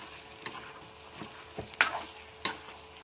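Turmeric vegetable curry with cauliflower, peas, onion and tomato stirred in a pan, a low sizzle under several scraping strokes of the spoon, two sharper scrapes standing out near the end, no talk.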